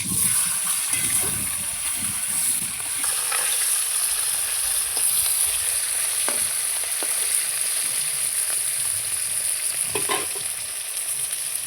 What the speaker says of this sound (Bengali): মাছের এক পাশ ভাজা হয়ে গেছে, আমি এবার উল্টে দিচ্ছি